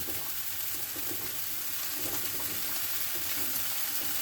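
Vegetables cooking in a pan give a steady, close sizzle with soft stirring, continuous and fairly loud from start to finish, with no voices over it.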